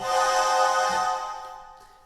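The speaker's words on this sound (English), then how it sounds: "dissonant or discordant would sound like this" A sustained, harsh-sounding clash of notes played together, ringing out and gradually fading over about two seconds.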